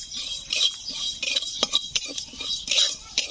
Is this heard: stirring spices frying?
yes